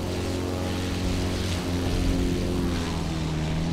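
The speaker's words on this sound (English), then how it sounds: "Usually there's a plane available for you." A propeller aircraft in the video game Battlefield 1943 drones steadily throughout, a loud, continuous engine hum with layered low harmonics and no talking.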